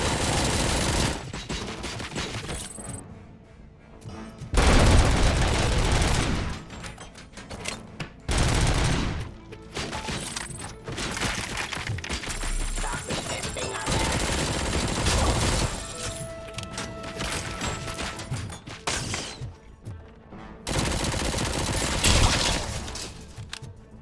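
Bursts of gunfire and sniper shots ring out in the video game RoboCop: Rogue City, loud volleys and rapid automatic fire alternating with brief lulls and scattered single cracks over a dense game soundtrack.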